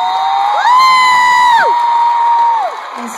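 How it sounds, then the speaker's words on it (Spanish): Audience at a live concert at the Gibson Amphitheatre in 2012 erupts in loud cheering and whoops, with a prominent sustained shout rising over the crowd noise for a couple of seconds. "para que le brinden un aplauso"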